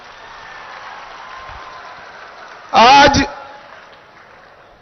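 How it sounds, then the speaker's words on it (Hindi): A crowd at an outdoor election rally in Kanker claps for journalists in a short, loud burst of applause lasting about half a second, set against a steady murmur and a speaking voice. "चलो पत्रकार भाइयों के लिए ताली बजाओ"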